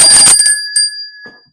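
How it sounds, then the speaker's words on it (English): A single loud, close ring of a bicycle-style bell with a bright metallic ding that decays into a ringing tone, then a faint second tap. "You should ring the bell just for her."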